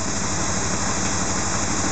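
A car engine idling as it warms up, with the fuel pressure regulator vacuum hose being checked: a steady, close, low rumbling hum with even pulsing, alone and without voices.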